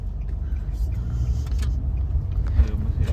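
A car driving on a day trip to a regional park, heard from inside the cabin as a steady low engine and road rumble, with faint talk.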